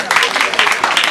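Audience applause for an imam, Kone Aruna, at a charity visit and awareness event, loud and close with uneven bursts of clapping, mixed with crowd voices throughout the short moment.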